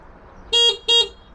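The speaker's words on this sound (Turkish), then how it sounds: "Bakalım korna nasılmış?" Two short, bright horn honks from an RKS SC150 scooter in quick succession, loud and close, over a faint background hum.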